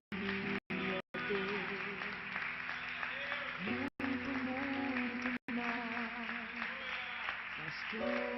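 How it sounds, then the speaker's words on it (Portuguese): A church congregation claps along steadily, the applause running throughout beneath sustained voices and music, with several brief dropouts in the sound. "Aleluia, vamos aplaudir a Jesus, em nome de Jesus."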